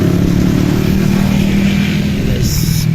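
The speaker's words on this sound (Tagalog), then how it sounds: "Marami nang nagmumotor." Motorcycles passing on a road near a campsite, a steady mid-pitched engine drone with a brief brighter whine near the end, fairly close and continuous.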